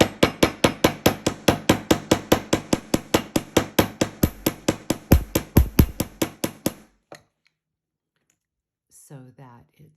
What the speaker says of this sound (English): Now we're grabbing our bench block and our chasing hammer, and we're going to hammer out these ends.